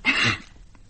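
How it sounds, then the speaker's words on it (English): A woman gives a single short cough, close and fairly loud, lasting under half a second before a faint quiet tail. "No, just a cough."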